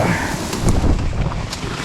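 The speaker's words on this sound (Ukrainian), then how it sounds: "Ну вітер сьогодні просто космічний" Loud wind rushes and rumbles against the microphone by the water while fishing in early spring after ice melt, in a short, continuous burst, with no talking.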